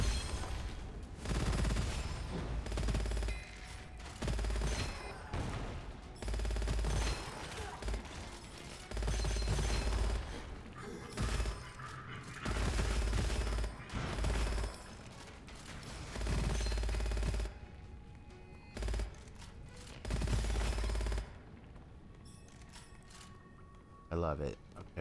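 Rapid bursts of SMG fire from the first-person shooter Gunfire Reborn, loud and repeated in short volleys with gaps between, mixed with mechanical reload and weapon clicks and someone talking over parts of it.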